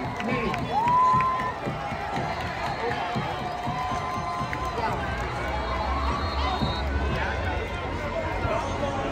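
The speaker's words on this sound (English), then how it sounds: "they get a round of applause heading back to the locker rooms" Stadium crowd at an FIU Panthers versus Maine Black Bears college football game applauding and cheering steadily throughout, a broad diffuse wash of clapping and voices with a short whistle-like tone rising early on.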